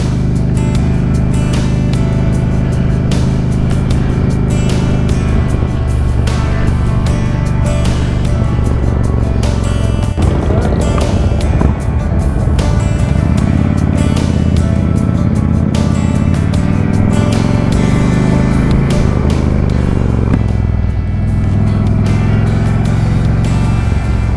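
Loud, steady motorcycle engine drone with wind rush during a group ride on Harley-Davidson Softail 103 bikes with forward mounts, the motor note rising and falling slightly as riders cruise.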